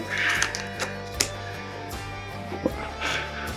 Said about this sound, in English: All right, I'll go ahead and cut this open quickly.